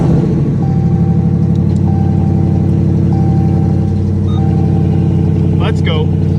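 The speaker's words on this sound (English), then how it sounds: "Cold start." A Dodge Challenger engine rumbles loudly and steadily after a cold start, a deep continuous idle drone up close with no gaps.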